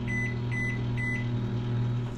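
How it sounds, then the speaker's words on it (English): A small, tiny microwave oven runs steadily while heating steak on a plate with a splash of water, a constant hum with a few faint repeating tones on top. "the plate is not going to fit inside of this tiny microwave"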